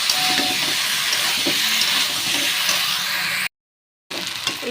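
Jackfruit and boiled potato fry in a hot spice paste, a steady close sizzle and hiss with occasional stirring scrapes, broken by a brief silent gap before the frying resumes.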